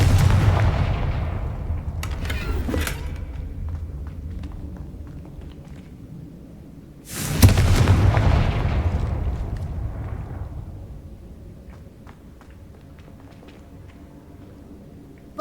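Two Confringo blasting spell explosions go off in Hogwarts Legacy, each a sharp crack followed by a long rumbling boom that slowly fades, the second one louder, with scattered crackles in between.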